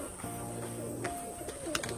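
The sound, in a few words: pigeons sitting on a roof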